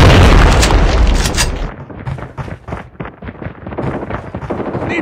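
A loud, close grenade blast in a Call of Duty game opens with a heavy boom, then fades into a rumbling tail broken by crackling bursts of distant gunfire.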